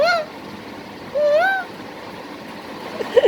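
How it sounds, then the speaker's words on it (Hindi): Two short, rising whistled calls of a koel, the Indian cuckoo, sound a second apart against a quiet background, followed by a couple of faint higher notes at the end. "और कोयल बोलती है"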